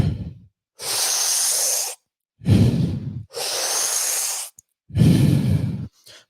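Slow, deep meditative breaths, close and audible: long airy exhalations alternate with shorter lower inhalations in a calm, even rhythm, with no talking.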